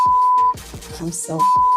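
A steady censor beep tone covers the start, breaks off while muffled speech comes through, then resumes at the end, loud and close.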